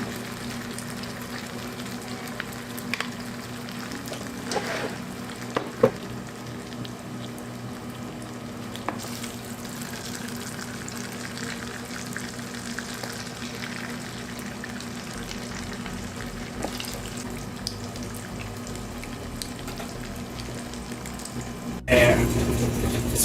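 Cauliflower frying in hot oil in a Lazada multicooker, a steady crackling sizzle with occasional pops and a faint hum, continuous and close, with a louder clatter near the end.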